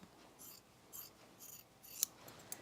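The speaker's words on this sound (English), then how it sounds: "watch what happens when I cut right here" Scissors snipping through dress fabric in a few short, quiet cuts with soft rubbing between them and one sharper snip near the end, close up in an otherwise hushed room.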